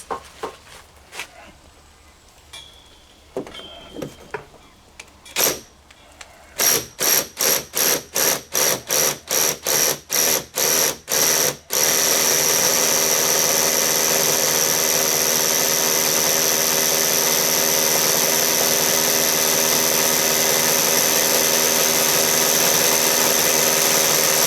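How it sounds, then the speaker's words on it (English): A small hammer drill boring through brick while rerouting an aerial cable, starting with sparse knocks, then a rapid series of short bursts, then a loud continuous grinding run to the end. "we're going to do the final bit through this bit of brick with the best little hammer drill"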